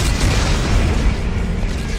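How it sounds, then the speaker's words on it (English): Explosives detonating in Dead Space 3, a sustained heavy rumbling blast that fills the whole moment with steady low roar and no speech. "Computer, arm explosives."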